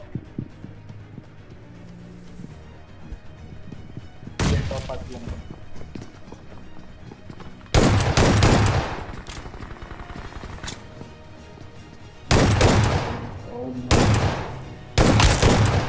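Gunfire and explosions from the battle royale mobile game BGMI, sharp loud bursts and blasts recurring in clusters between quieter stretches of in-game ambience.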